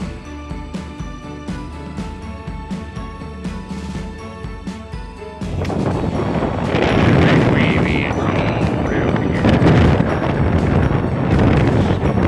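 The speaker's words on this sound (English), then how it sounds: "It's windy out here" Wind blowing hard while sailing a Hughes Columbia 8.7 on Georgian Bay, a steady broadband roar that swells and grows louder midway and keeps going, with faint tonal sounds early on.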